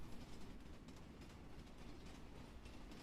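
A train runs along rails in an audio story, a continuous dense rumble and rattle of carriages with a faint rhythmic clatter, steady and fairly close throughout.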